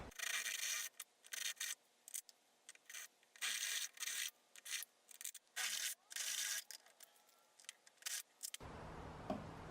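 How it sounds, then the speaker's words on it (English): A step drill bit cuts a 7/16 inch hole through a thick metal step bracket for a Torklift A7820 Stow N' Go, heard as repeated bursts of harsh high grinding with short pauses between, close and fairly loud. "I'm using a step drill bit to drill my 7/16 hole"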